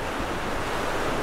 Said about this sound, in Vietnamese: Đây là biển nè.